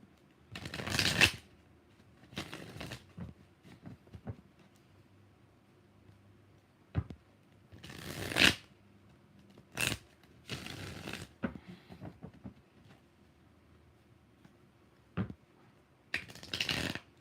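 Tarot cards shuffled by hand in several short, crisp riffling bursts spaced apart, with quiet gaps and a few faint taps between them.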